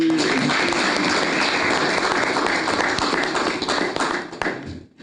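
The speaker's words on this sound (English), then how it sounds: "Double clapping." Clapping in a news setting comes as a dense, close burst of hand claps that holds steady and then fades out at the end.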